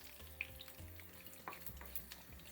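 Chili and curry leaves sizzle steadily in hot oil for Anglo-Indian pepper water, a close continuous frying hiss with a few small pops and faint stirring clinks.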